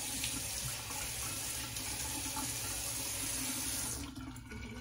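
A bathroom tap runs steadily to rinse a razor mid-shave, with a close, continuous broadband hiss that eases slightly near the end.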